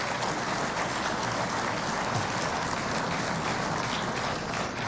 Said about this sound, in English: I ask you please to give them a round of applause.